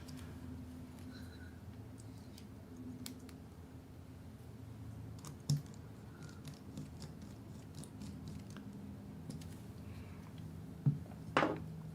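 A mechanical keyboard being assembled, with sparse light clicks and taps over a steady low hum, plus a couple of sharper knocks.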